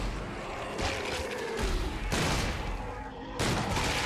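Gunfire in the sci-fi horror game Dead Space 3: heavy, noisy bursts of shots, loud and close, with brief pauses between them and faint voices underneath.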